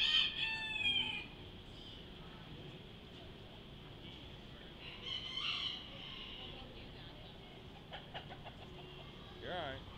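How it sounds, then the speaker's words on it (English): A white leghorn rooster crows at a county fair, one clear crow near the start followed by fainter crowing and clucking from other fowl in a busy poultry barn, with people talking nearby. "That's a leghorn, white leghorn."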